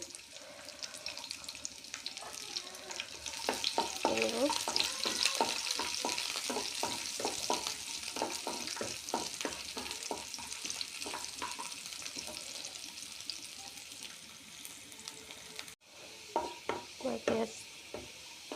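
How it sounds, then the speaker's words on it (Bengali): Garlic fries quietly in a pan with a light, continuous sizzle. Repeated rhythmic scrapes of stirring run through most of it, and a couple of sharper knocks come near the end. "রসুনটা ভাজা হয়ে গেছে এখন আমি রসুনটা উঠিয়ে নেব"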